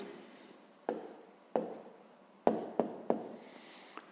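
A pen writes an answer to a fifth-grade maths exercise by hand, a handful of distinct scratchy strokes and taps at irregular intervals, close and quiet against a silent background.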